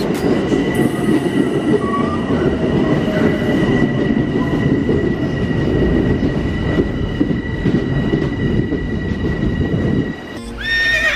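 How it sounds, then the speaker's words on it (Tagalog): A train rumbles past loudly and steadily for about ten seconds, with squealing wheel and rail tones over the roar, before it drops away abruptly near the end. "We'll be riding that train."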